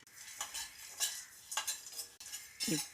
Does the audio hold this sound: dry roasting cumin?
yes